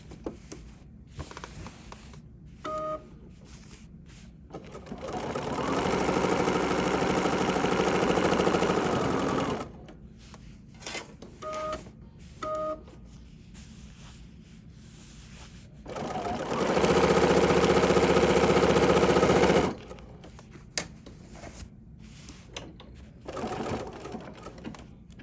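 A sewing machine with a stitch regulator stitches an embroidery sampler block, running in two long steady humming bursts separated by quieter pauses with soft clicks and handling sounds.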